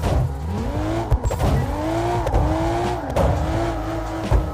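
Drift car in CarX Drift Racing revving hard in repeated cycles, engine pitch rising and dropping with gear changes, tires squealing and skidding between bursts, loud and close with no talk.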